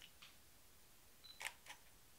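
Fujifilm X-T100 camera firing its shutter automatically: a brief electronic beep, then a quiet double mechanical click, close and faint in a quiet room.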